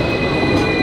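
A Hong Kong tram pulling into a stop gives a loud, steady rumble with a high metallic wheel squeal on top, close and continuous, with no talk.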